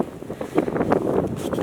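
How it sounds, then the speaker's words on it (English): Strong wind blowing outdoors at a Lake District wild camping spot on a freezing morning, buffeting the microphone in rough, continuous gusts that rumble and flutter without pause. "It is so windy."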